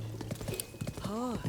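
Horse hooves clip-clop in Tears of the Kingdom, a steady quick gait heard close, with a rising whinny-like tone near the end and someone talking over much of it.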